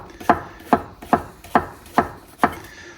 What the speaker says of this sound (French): Donc, je coupe mes champignons